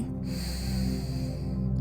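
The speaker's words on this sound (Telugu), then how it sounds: "దీర్ఘమైన శ్వాస లోపలికి" A slow, deep inhalation during a guided meditation, a soft steady airy breath drawn in alone and close, over a low constant hum with no speech.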